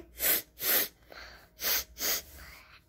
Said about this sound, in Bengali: এবার অ্যালার্জি আসছে নাক টানে